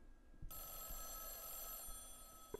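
A telephone rings in the horror video game Mothered, starting abruptly after half a second of near silence and continuing as a steady, sustained bell tone with a faint background hum.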